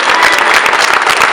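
Audience at a dinner dance clapping loudly, a brief dense burst of many hands close by.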